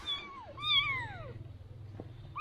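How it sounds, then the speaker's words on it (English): A cat in a Vietnamese village gives two close meows, the second one longer and falling in pitch, followed by quiet background noise. "Can I see your cat"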